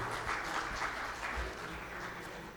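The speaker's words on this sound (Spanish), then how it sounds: "vamos a otorgarle un fuerte aplauso a la doctora Bendezú" An audience at a medical congress applauds a doctor's talk, a steady soft patter of many hands without voices.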